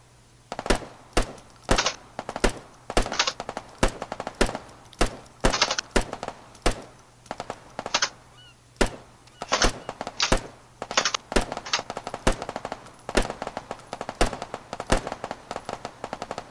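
Gunfire in an Arma 3 firefight: sharp single shots and short bursts crack out at uneven intervals, some close and loud, others thinner and more distant, over a low constant hum.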